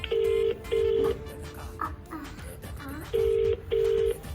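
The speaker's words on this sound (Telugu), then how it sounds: "మళ్ళీ నేను మా అమ్మకి కాల్ చేస్తాను" Ringback tone of an outgoing phone call, with long steady beeps repeating in pairs and a quiet gap in the middle, heard clearly in an otherwise quiet room.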